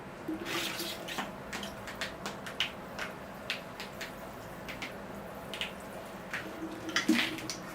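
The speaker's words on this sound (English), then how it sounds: "I'll give the tree a good watering now" Water pours onto a Brazilian rain tree bonsai in its pot, a faint, close trickle broken by soft splashes and scattered drips.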